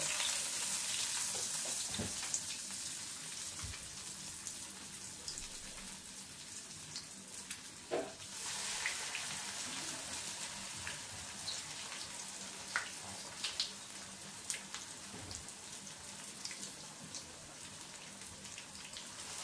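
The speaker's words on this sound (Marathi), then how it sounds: "हे बघा असं खरपूस तळायचे" Breadcrumb-coated cheese corn tikki shallow frying on a low flame, a soft steady sizzle with scattered pops and crackles throughout, heard alone.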